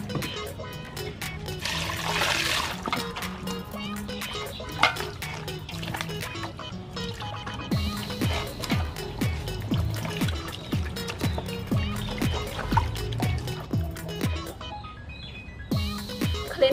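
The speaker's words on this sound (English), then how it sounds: "Add some water." Water is poured into a cooking pot while making fresh corn soup, a continuous splashing, gurgling stream with some clattering, close and fairly loud, with bits of talk over it.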